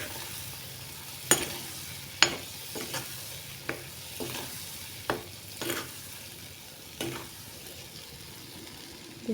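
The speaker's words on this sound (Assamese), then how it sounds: "অলপ কেৰাহীতে গৰম কৰি দিছোঁ" Lemon pickle is heated and stirred in a wok, a continuous low sizzle broken by regular sharp scrapes and taps of the spatula, close by and without speech.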